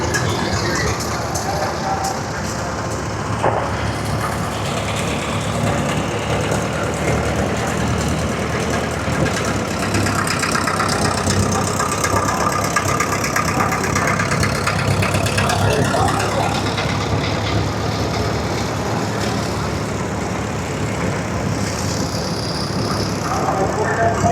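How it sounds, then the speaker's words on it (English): Antique tractors, among them an old Rumley, idle at a tractor parade during a barn festival, a steady mix of engine rumble running throughout under crowd chatter and voices nearby. "Tractor parade"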